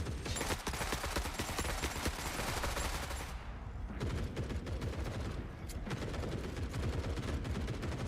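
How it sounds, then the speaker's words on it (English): Rapid bursts of gunfire fill the Forever Winter battle, dense and continuous, with machine-gun chatter and overlapping shots that briefly thin out midway before the volley resumes at full intensity. "Who's shooting what?"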